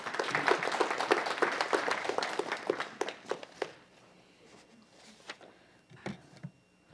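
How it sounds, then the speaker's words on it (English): A round of applause at a city council meeting starts as dense clapping from the room, thins after about three seconds into scattered individual claps, then a few isolated claps and light knocks. "Everyone give him a round of applause."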